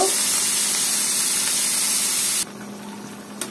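Bathua greens hit a hot pan with prawns, giving a loud, steady hiss of sizzling and steam that cuts off abruptly partway, leaving a quieter background with a brief knock near the end.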